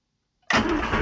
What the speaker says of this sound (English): let's see if it will start